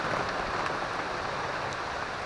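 Steady rain falls outdoors on a second day of wet weather, a dense, even hiss of drops on surfaces with no talking, continuous and moderately loud.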